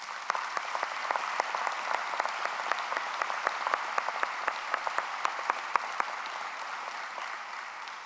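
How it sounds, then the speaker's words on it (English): Steady audience applause fills a hall at a student farewell gathering, a dense, even wash of many hands clapping at moderate distance with a few sharper nearby claps, sustained throughout with no talking. "let's take a minute again to show our gratitude with a round of applause for those who have supported"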